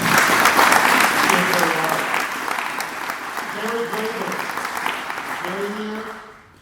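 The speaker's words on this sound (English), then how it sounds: "And folks, give her a round of applause." A conference audience at a leadership summit gives a round of applause for a treasurer, a loud, full burst of clapping that slowly eases while voices call out over it, fading near the end.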